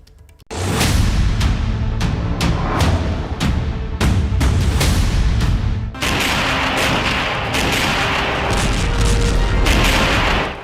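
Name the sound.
bombs exploding and artillery fire, war sound effect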